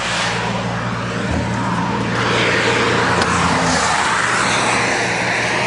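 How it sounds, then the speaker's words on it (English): A truck drives past on a road outside, its broad engine and tire roar loud and steady throughout, swelling slightly as it goes by, with no talking. "As soon as this truck goes by,"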